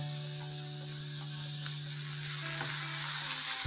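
Chicken masala frying in a pan as it is stirred, a steady bright sizzle with faint scraping, accompanied by a constant low electrical hum throughout.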